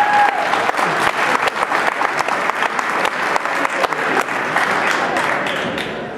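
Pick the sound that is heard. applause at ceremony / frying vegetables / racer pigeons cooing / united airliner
applause at ceremony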